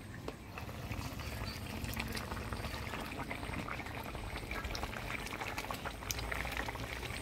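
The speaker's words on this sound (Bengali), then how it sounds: "ঝোলে বলক এসে গেছে" A pot of Bengali-style rohu fish curry broth with Malabar spinach bubbles at a rolling boil, a dense continuous gurgle and pop heard close up and fairly quiet, with no talking.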